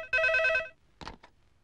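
A telephone bell rings loudly in a short burst, followed by a brief pause and a couple of soft clicks, as if the receiver is being picked up, in a scene from a Telugu film.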